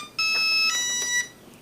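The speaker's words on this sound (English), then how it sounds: "it has that audible beep to let you know that it's ready" A pair of short electronic tones from an RC plane's ESC signalling it is ready, a steady beep followed by a quicker chirp, faint and close with a quiet background.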